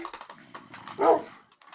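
Several dogs in the Minecraft video game give short, quiet barks and whimpers, with one louder yelp near the end, over faint game background.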